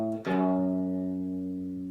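A guitar plucks a descending minor third starting from A, two notes sounded in quick succession and left ringing with sustained, clear harmonic tones that slowly fade.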